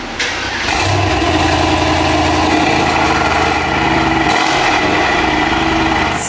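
A car engine with a new exhaust roars loudly and steadily close by, a sustained throaty rev with a brief dip partway through and no talking.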